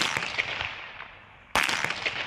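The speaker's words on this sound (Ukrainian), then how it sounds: "А далі звуки стрілкотні порівнювали зі звуками на відео" Assault rifle fired outdoors near Sloviansk during a forensic sound test, sharp cracks in quick bursts with echo trailing off, a second burst after a brief pause, fairly distant and alone.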